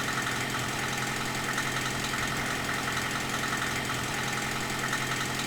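A giant machine's engine running in the Giant Machines 2017 simulator, a steady loud droning hum with a dense, unchanging rattle, heard alone without pause.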